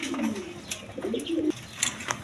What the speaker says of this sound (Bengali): এখানে এক পেয়ার বোম্বাই কবুতর আছে দেখেন, ওই নটটা ডাকতেছে খুব ডাকাডাকি করতেছে